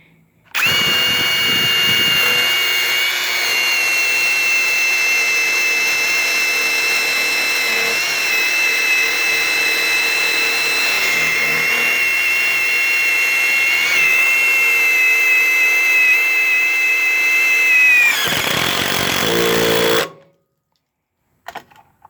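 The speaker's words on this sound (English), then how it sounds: "This is the very first fastener I put in with this brushless impact." Porter Cable brushless impact driver driving a fastener, a loud, steady high-pitched whine with a rapid hammering rattle that runs for about eighteen seconds, then stops abruptly.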